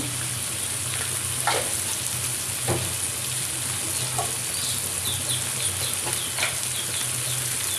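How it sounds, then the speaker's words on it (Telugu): Spices being stirred into a sizzling bean curry in a frying pan, a steady hiss with occasional scraping strokes of a spoon, no talking. "పచ్చివాసన పోవడానికి పసుపు వేసుకొని బాగా కలుపుకోవాలి"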